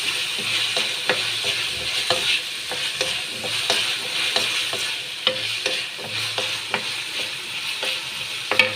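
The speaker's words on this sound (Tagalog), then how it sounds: "Ayan na, hinahalo ko na siya. Lalagay ko na yung patatas." Ground pork or beef and potato pieces stirred in a frying pan, a spatula scraping in repeated rhythmic strokes over a steady close sizzle, with no voices.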